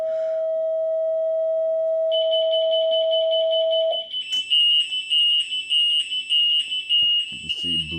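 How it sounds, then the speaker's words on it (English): A detector's steady electronic tone holds for a few seconds, then shifts to a piercing high-pitched false alarm set off by interference, with faint voices underneath near the end. "there's the false alarm that's given off"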